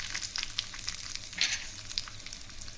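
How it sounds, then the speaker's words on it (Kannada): Cashews, dry red chillies and spices fry in a pan with a steady crackling sizzle, punctuated by sharper pops and spits, close and fairly quiet with no talking. "ಫ್ರೈ ಮಾಡ್ಕೋಬೇಕು"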